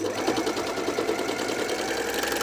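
A Medion MD-19169 overlock machine sews and trims fabric with its cutting knife, giving a continuous, close, busy mechanical whir with a fast, even rhythm throughout.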